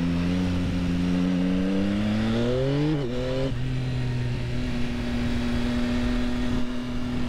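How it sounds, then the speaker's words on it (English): A 2022 Yamaha XSR900 motorcycle on stock exhaust accelerates hard, its engine note and intake roar climbing steadily through a gear change, then holding a steady drone as the bike pulls on. "You can hear that intake. The intake sounds good."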